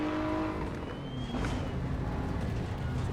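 A GT3 race car brakes hard on the Nürburgring in Assetto Corsa EVO, its loud engine note dropping sharply as it downshifts, a brief close, roaring burst.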